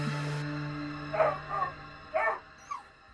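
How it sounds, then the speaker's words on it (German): A dog barks four times at a moderate distance, the barks spaced about half a second to a second apart, following a faint tonal hum that cuts off early; no voices. "wird von den Bellen seines Hundes aus dem Schlaf gerissen"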